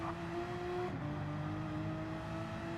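A race car engine in a multi-class racing game holds a steady, loud drone throughout; its pitch drops sharply as the car shifts, then climbs again under acceleration.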